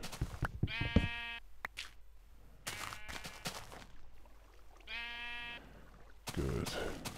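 Sheep bleat in a Minecraft-style video game, several distinct drawn-out bleats separated by short pauses and other game sounds, fairly loud and close, with no speech.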